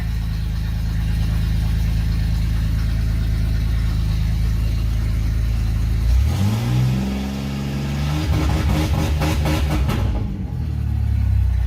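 A silver Ford Ranger pickup on a chassis dyno fires up partway through, its engine catching with a loud crank and settling into a steady idle near 1100 rpm over a constant background drone.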